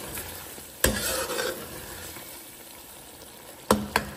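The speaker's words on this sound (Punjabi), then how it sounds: "ਤਾਂ ਅਸੀਂ ਹਾਂਡੀ ਭੁੰਨਦੇ ਹਾਂ" Meat curry stir-fried in a handi gives a steady close sizzle and frying hiss, broken by a few sharp clanks of a spoon against the pot, with no voices.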